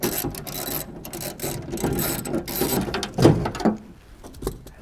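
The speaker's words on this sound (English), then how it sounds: "Then I'll go ahead and just take these 4 screws out." Screws are backed out of a window regulator on a 1967-72 Chevy truck, giving a close, uneven series of ratcheting clicks and metallic scrapes with short pauses between them.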